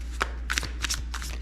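Thick action deck of playing cards being shuffled by hand, four quick riffling bursts of papery flutter close to the microphone over a faint low hum.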